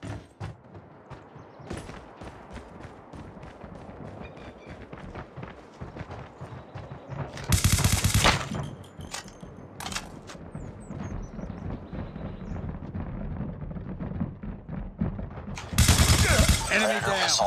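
Gunfire in the mobile game Call of Duty Mobile during a hardpoint match, with rapid bursts and clattering shots alongside two louder blasts, over game voice callouts and background talk.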